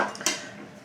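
A metal saucepan clanks briefly against other kitchen utensils, a short close metallic clatter with a light ringing tail.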